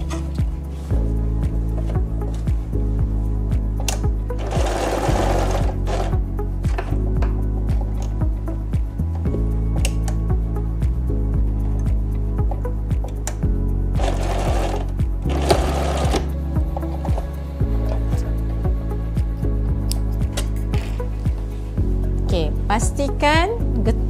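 Sewing machine running in steady bursts while stitching a Malay baju kurung, a close, rhythmic mechanical hum that starts and stops repeatedly, with brief rustles of fabric between runs.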